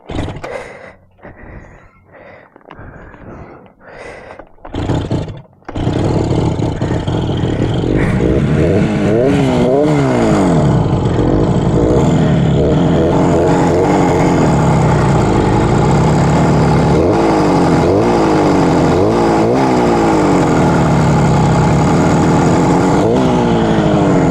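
A purple 1967 Yamaha YR1 motorcycle sputters through several short, failed attempts before its engine catches and keeps running loudly and close, idling with occasional revs.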